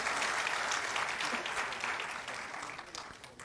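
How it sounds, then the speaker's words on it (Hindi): An audience claps loudly and steadily at an Adivasi rights conference in Nagpur in 2024, with dense applause gradually fading over a few seconds. "सतीश जी के लिए एक बार जम की ताली बजाए"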